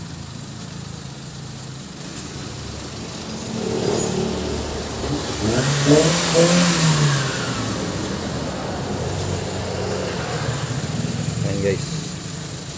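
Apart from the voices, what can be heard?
Suzuki mini van engine running after drive belt change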